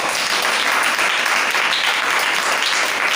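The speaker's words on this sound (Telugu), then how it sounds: "చప్పట్లు కొట్టి దేవుని స్తుతిద్దాం." A church congregation claps together in praise of God, a loud, continuous, even roar of many hands with no break, filling the room.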